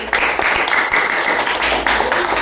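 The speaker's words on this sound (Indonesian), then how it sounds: "Kita berikan tepuk tangan ke Anggi" Classroom clapping from schoolchildren for a classmate, close and brisk with individual claps audible, and a few voices calling out over it.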